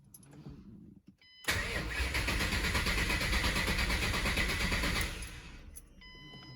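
A Mustang GT 4.6 3V V8 cranks over with its injectors disabled, a loud, steady mechanical churn lasting about three and a half seconds without firing, then cutting off into quieter surroundings.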